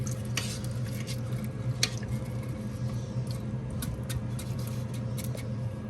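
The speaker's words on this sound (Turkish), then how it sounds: "Şimdi bu kaşığımızla güzelce ne karıştıracağız" A spoon scrapes and knocks against a rice cooker pot while rice is stirred, giving quick metallic clicks over a low steady hum, close and fairly quiet.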